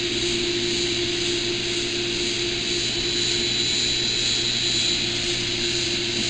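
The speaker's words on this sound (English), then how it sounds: "The pump running here." A water pump runs inside a house in Dallas, Texas, giving a steady, loud motor drone with a constant whine throughout and no break in the sound.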